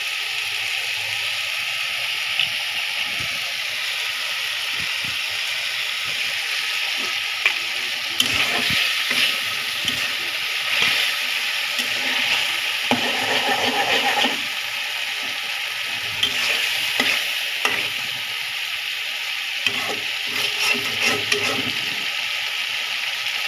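An egg fries in a pan while noodles cook, a steady sizzling hiss with scattered clinks and scraping stirs throughout, no talking.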